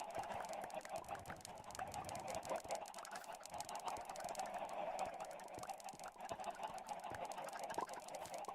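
Minecraft chickens cluck softly in a faint, continuous background murmur of game ambience, with small scattered clucks and pops as the birds lay eggs.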